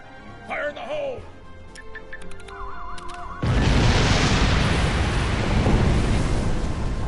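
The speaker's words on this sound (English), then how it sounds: "eine große Explosion war es jetzt nicht, aber es hat gereicht, den Felsen komplett runterzuholen" A rock brought down by an explosion, a sudden loud broadband roar bursting in midway and rumbling on steadily to the end, after a stretch of electronic beeps and a voice.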